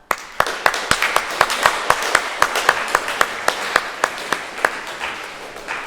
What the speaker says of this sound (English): show our appreciation of the incredible hard work that the teachers did in preparing resources, as well as clapping yourselves for a job well done